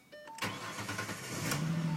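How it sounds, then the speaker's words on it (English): A cold Ford Mustang engine cranks briefly, then catches and settles into a loud, steady idle, close by and heard alone. "if I start it right now, because the engine is cold"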